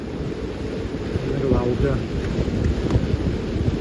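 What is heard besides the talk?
strong gusty wind at a harbour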